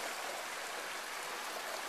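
Mountain stream in the White Mountains of the Presidential Range runs in a steady, even wash of water, close and continuous with no voices.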